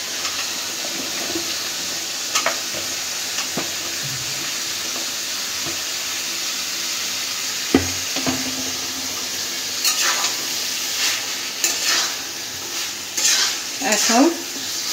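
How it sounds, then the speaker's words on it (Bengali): Mixed vegetables and spices being stir-fried in a pan with continuous loud sizzling and occasional scraping and stirring clatter close by, plus brief higher squeaks near the end. "সবজিটা মশলার সাথে ভালো করে কষাই নিব।"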